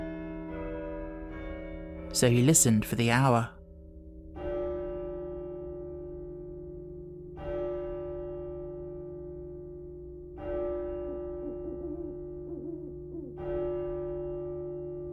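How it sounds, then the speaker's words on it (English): A neighbouring church's chimes strike the quarters: several resonant bell tones ring out one after another at spaced intervals, each decaying slowly, with a narrator's voice speaking briefly near the start. "the chimes of a neighbouring church struck the 4 quarters"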